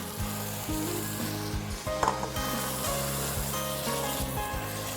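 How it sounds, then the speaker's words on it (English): Canned chopped tomatoes sizzle as they are added to a pot of cooked onions for braised beef with chickpeas, a continuous close frying hiss under a low, steady background hum. "I'm gonna go ahead and add my 1 can of chopped tomatoes."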